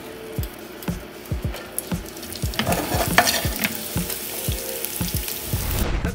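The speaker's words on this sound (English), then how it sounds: "So we're gonna saute the mushrooms and the spinach together," Mushrooms and spinach sauté in olive oil in a saucepan, a soft continuous sizzle broken by repeated scraping stirs of the utensil against the pan, with no one speaking.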